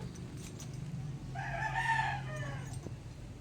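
A rooster crows once in the middle distance, a single drawn-out call rising over a steady low hum and background noise.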